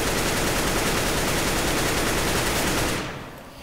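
Sustained automatic gunfire in a Counter-Strike–style shooter on the Inferno map, sprayed through a wall as a dense, loud, rapid volley that cuts off abruptly near the end, no voices.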